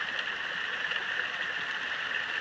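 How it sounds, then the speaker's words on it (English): Carnes Cascade, a cold mountain creek cascade near Maggie Valley, flows in a steady, even rush of water, unbroken and moderately loud throughout. "That's Called Carnes Cascade. That's the name of this."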